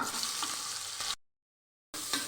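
Onions fry in oil for egg biryani with a steady close sizzle, broken by a brief silent gap before the crackle resumes.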